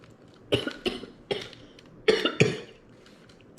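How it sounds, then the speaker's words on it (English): A person coughs after choking on water, five or six harsh close bursts in uneven succession with short gaps of quiet between them. "I choked on my water."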